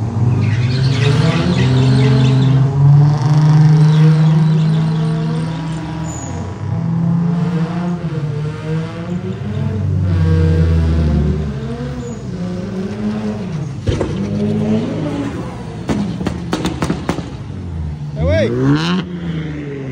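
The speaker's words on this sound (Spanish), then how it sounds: "Sí, amigos, también hay carreras de drag. Ahí va un Infinity y un 370Z." An Infiniti and a Nissan 370Z accelerate in a drag race at a Z car show, their engines rising under loud, close talking, with a few sharp bursts near the end.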